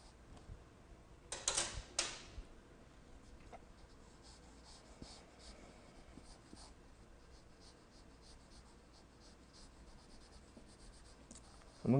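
Pencil scratching across paper while sketching a figure, with a burst of quick strokes early on, then a long stretch of soft, steady scraping lines up close, ending in a louder stroke.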